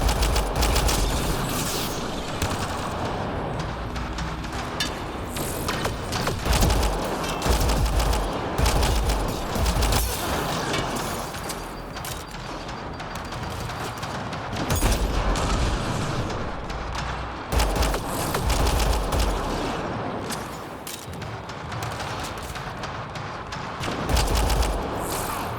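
Rapid, continuous turret gunfire in the sci-fi shooter Mass Effect: Andromeda, dense bursts and booms hammering without pause, loud and close throughout.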